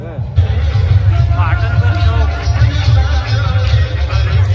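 Dense crowd babble at a garba night in Khopoli, a loud, steady wash of many voices close around, with nearby speech rising above the hubbub.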